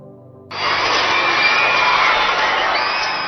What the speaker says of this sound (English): Applause rings through St.